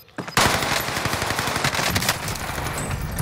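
Rapid automatic gunfire in a video game, loud and continuous, sustained bursts with a few sharp accents, no talk over it.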